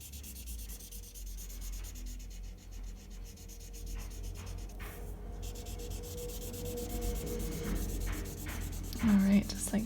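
A black marker colors in a large paper rectangle with steady, soft scratchy rubbing strokes, close and quiet, continuing throughout with a brief louder scuff near the end.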